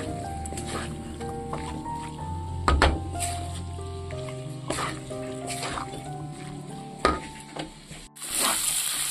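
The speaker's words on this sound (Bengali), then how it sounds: "মাটনের চর্বিটা একটু ভালো করে নাড়াচাড়া করে নেব।" Mutton fat with salt and a pinch of turmeric frying in a pan on low heat, a soft sizzle broken by intermittent scraping stir strokes, close and moderately quiet.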